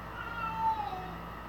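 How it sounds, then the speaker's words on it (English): A cat gives a single faint, drawn-out meow somewhere in the background of a workshop, heard against a low steady hum with no voices. "Oh, it's a cat."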